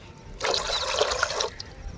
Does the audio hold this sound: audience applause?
no